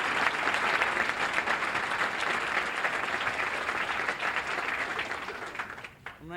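An audience applauds at a 1979 Law Day lecture, a sustained wash of clapping filling the room for several seconds before tapering off at the end.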